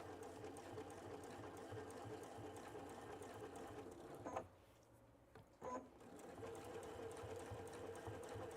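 A Baby Lock sewing machine running steadily as it top stitches a tote bag, a continuous close mechanical whir that pauses briefly and then resumes.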